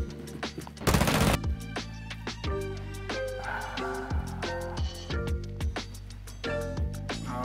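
Video game gunfire from the T5 SMG in Rainbow Six Siege, with a sharp blast near the start followed by a string of fairly slow, evenly spaced shots over game background sound and no talk.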